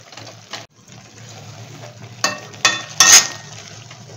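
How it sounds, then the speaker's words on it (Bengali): Mashed paneer and sugar being stirred in a pan, a steady soft scraping with several louder scrapes of the spoon against the pan toward the end, no voices. "আমি ততক্ষণ নেড়ে যাই যতক্ষণ না জলটা শোকায়।"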